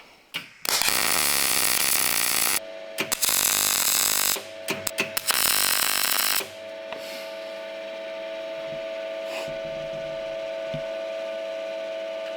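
Welding on a seat rail mount in a Volvo 240 gives loud crackling buzzing bursts that stop and restart several times, then a steadier hum continues.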